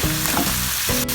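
Red chilli powder being stirred into a frying masala for dum biryani: a brief, loud, close sizzle with a spoon scraping through, and no voices.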